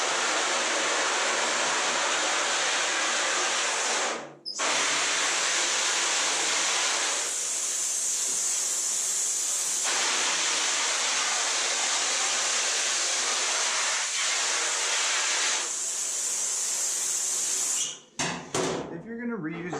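Cold water sprays hard onto a screen-printing screen in a steady, loud, broadband hiss that runs nearly continuously, with brief breaks where the stream stops or shifts, and some clattering handling at the end.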